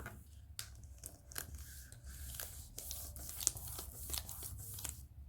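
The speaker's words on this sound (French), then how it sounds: "Donc, on enlève la pellicule." Protective backing film peeled off adhesive paper, a soft crinkling, tearing rustle with faint crackles through a quiet room and no talk.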